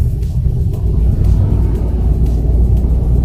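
Manual-transmission car engine rumbling steadily as it accelerates, pulling out of a garage onto a main road, loud and close with a constant low drone throughout.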